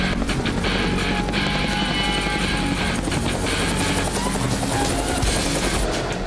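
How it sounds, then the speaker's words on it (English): A low-flying military helicopter thunders continuously overhead with rapid rotor chop and a heavy engine drone, loud and close throughout. "Flying like a military helicopter below 200 feet in a populated area is not normally done."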